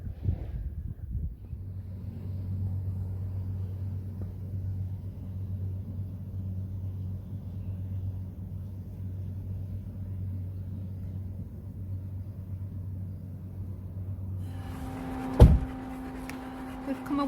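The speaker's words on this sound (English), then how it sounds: "That sound you can hear is the heater." A camper van heater runs with a steady low hum and rumble close by, holding even for about fifteen seconds before it cuts off, followed by a sharp knock and a fainter hum.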